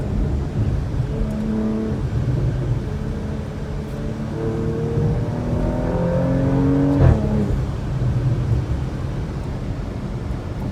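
A 2021 Porsche Macan GTS with a 2.9-liter engine and PDK gearbox accelerates in manual mode, its engine drone rising in pitch and then dropping as it shifts quickly through the gears, heard steadily from inside the car.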